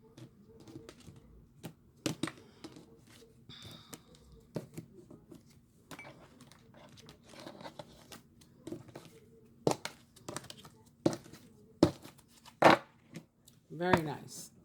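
A tarot deck is cut and shuffled in sharp, scattered card slaps and riffles spread across the stretch, close and fairly soft, with a voice talking briefly near the end.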